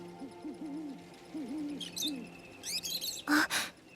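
Owl hooting in the game Infinity Nikki: several soft, rounded hoots repeat in short bursts over a steady ambient bed, followed by brighter chirping and a couple of louder tonal calls near the end.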